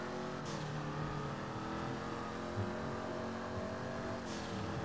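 A stolen street car being driven in GTA 5, its engine droning steadily at a constant pitch with no talking, close and continuous throughout.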